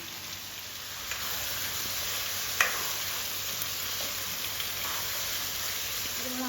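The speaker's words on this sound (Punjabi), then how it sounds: "ਹੁਣ ਆਪਾਂ ਗੈਸ ਸਿਮ ਕਰਕੇ ਅਰਦੀ ਨੂੰ ਅੱਧੇ ਘੰਟੇ ਵਾਸਤੇ ਭੁੰਨਣਾ ਹੌਲੀ ਹੌਲੀ ਇਹਨੂੰ ਆਪਾਂ ਨੂੰ ਹਲਾਈ ਜਾਣਾ" Taro pieces roasting in a pan over a low gas flame give off a steady, soft sizzle, with a few faint scrapes and taps as they are stirred now and then.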